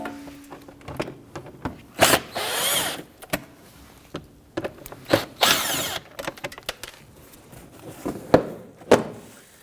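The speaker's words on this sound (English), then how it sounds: "Right around this duct here, there are 3 7mm screws. Loosen these, remove them." A power tool removing three 7mm screws around a bumper duct on a 2011-2023 Dodge Charger 3.6L V6, with short whirring bursts of a driver spinning up and stopping, interspersed with clicks and clunks of handling nearby, no talking.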